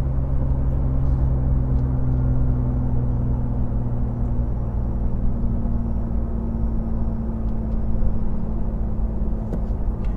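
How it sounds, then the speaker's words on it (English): A BMW i8 in sport mode cruising near the speed limit over hilly roads gives a steady low drone of engine and road noise from inside the cabin, continuous and even throughout. "as I'm driving in sport mode, I'm just driving around the speed limit and I'm going up and down some hills right now"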